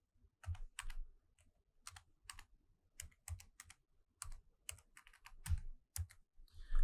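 Card details being typed on a computer keyboard, quiet close clicks in short irregular bursts separated by brief pauses.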